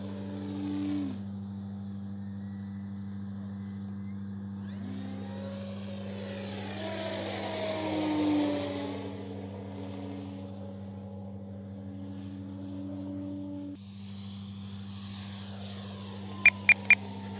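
Stock E-flite Carbon Z T-28 RC warbird plane flying with its electric motor, a steady whine that rises and falls as it passes and throttles, heard over a constant low hum.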